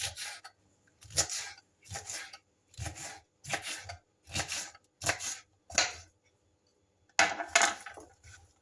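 Steady knife chopping peppers on a board, about a dozen quick bursts of crisp cuts in a regular rhythm with short pauses, close and clear, no voices.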